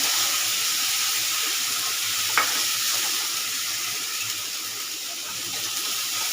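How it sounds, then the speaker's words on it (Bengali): Garlic paste with a little green chilli paste fries in a pan for a young jackfruit kebab, giving a loud, continuous close-up sizzle with one faint clink partway through. "আর একটু সামান্য রসুন বাটা করে ভেজে নিই"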